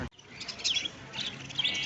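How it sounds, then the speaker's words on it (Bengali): Small birds chirp in short bright bursts outdoors near a market in Uttara on a winter morning, moderately close and fairly faint, with no talking. "পাখিগুলো খুব সুন্দর দেখা যাচ্ছে খুব দারুণ দারুণ দৃশ্য"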